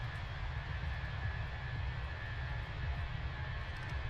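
Jet engines of a Fenix Airbus A321 in Aegean livery cruising in Microsoft Flight Simulator 2024, heard as a steady, faint cabin-like roar with a constant whine and no talk.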